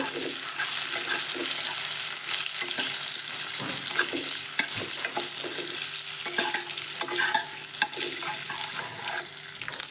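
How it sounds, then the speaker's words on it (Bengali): Boiled duck eggs fry in hot oil seasoned with salt and turmeric, a loud, steady sizzle running throughout, with intermittent scraping and stirring sounds from a utensil in the pan and no talking. "আগে থেকে সিদ্ধ করে রাখা ডিমগুলো দিয়ে ভেজে"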